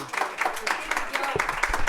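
Audience applause, a short patter of hand claps of moderate loudness with people talking over it.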